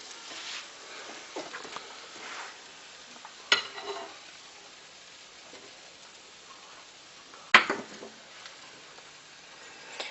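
Pancake batter sizzles quietly in a hot oiled frying pan, a soft steady crackle with faint stirring-like rustles and two sharp isolated clicks breaking through.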